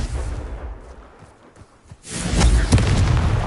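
A Confringo fire spell from the wizarding game Hogwarts Legacy bursts after a lull, a loud booming blast with a crackling, rumbling tail that lingers to the end.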